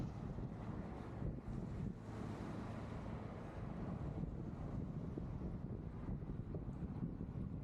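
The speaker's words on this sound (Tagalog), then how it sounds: "Except sa part na to na sobrang hangin." Strong wind roars steadily across the microphone, a constant low buffeting rush with no voices, continuing unbroken throughout.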